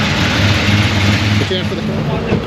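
A big Ford XB engine idles at a car meet with a steady, low, throbbing rumble that stays loud throughout, while people talk over it.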